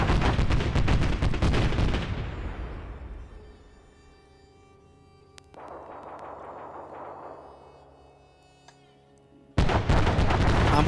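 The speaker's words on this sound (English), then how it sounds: "We still have that bombarding over here." Artillery bombardment in a large 220-player PvP military video game: loud rumbling barrages open the clip and fade out, a quieter stretch of rumbling follows mid-clip, and a sudden heavy blast returns at the end.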